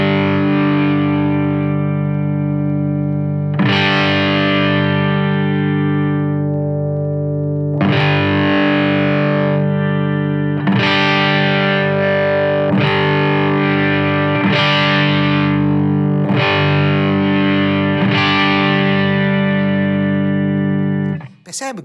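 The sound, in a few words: distorted electric guitar, tone knob turned from closed to open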